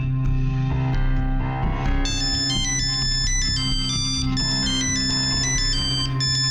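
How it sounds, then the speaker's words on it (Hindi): A mobile phone rings with a bright melodic ringtone, playing loud and continuous with musical chimes over a steady backing for several seconds, set in a Hindi television crime drama. "मानसी की माँ का फोन।"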